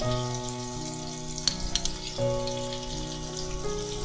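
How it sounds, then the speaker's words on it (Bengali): Vegetables fry in a pan with salt and turmeric for a Bengali fish curry, giving a steady close sizzle broken by a few stirring clinks. "এটাকে এইভাবে 5 মিনিট সময় ধরে একটু ভেজে নিচ্ছি"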